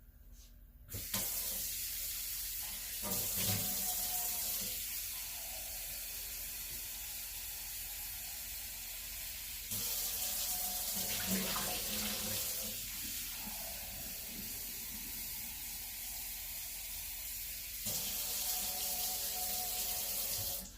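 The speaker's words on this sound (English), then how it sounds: "So let's get some warm water." A kitchen tap runs warm water for bread dough, a steady hissing stream that starts, stops and restarts in several long bursts with faint clinks between them.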